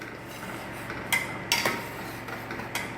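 Banga soup being stirred in a cooking pot, with a few sharp clinks and scrapes of a utensil against the pot over a low steady background.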